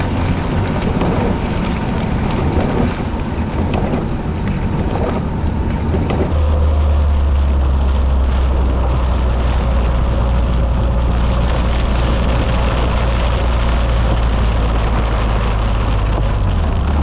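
Steady heavy rain hisses loudly around a Caterham 7 being driven on Scottish roads, a constant wash of drumming drops over the low engine and road rumble, with no voices.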